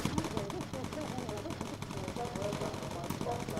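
Rear gunner's machine gun rattling in the bomber game Bomber Crew, rapid bursts running steadily beneath continuous engine drone and other game sounds, fairly quiet overall with a voice briefly present.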